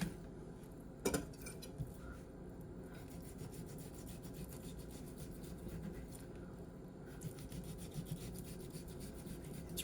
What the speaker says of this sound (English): It's really helpful to do this with a sharp knife.